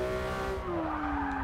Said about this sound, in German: jetzt die Hinterreifen sind jetzt gerade durchgedreht